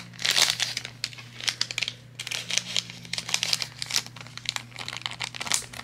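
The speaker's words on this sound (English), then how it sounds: "And we're just gonna put this in a holographic bag" A bracelet order slides into a holographic plastic bag, giving a run of crisp crinkling and rustling bursts that come close and fairly loud over a low steady hum, with no talking.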